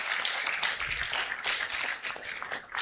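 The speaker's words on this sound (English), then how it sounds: "Let's give him another applause." Applause from a crowd at an African Liberation Day celebration, a moderately loud spread of many hands that swells and dips, with scattered louder claps standing out near the end.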